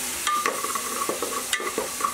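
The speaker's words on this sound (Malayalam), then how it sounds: "ഇനി ഇതിലേക്ക് ഞാൻ നമ്മുടെ ഇഞ്ചി, വെളുത്തുള്ളി, പച്ചമുളക് പേസ്റ്റ് ഇല്ലേ, അത് ചേർക്കുന്നുണ്ട്." Ginger, garlic and green chili paste sautéing in oil for a pressure cooker chicken biryani, with a soft sizzle under repeated close scraping and stirring strokes of a spoon in the pan.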